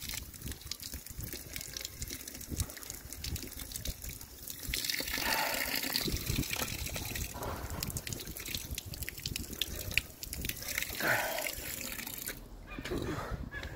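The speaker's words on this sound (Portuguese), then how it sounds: "Água da torneira" Tap water runs from an outdoor faucet during a run, a moderate gushing and splashing that swells and fades over background noise.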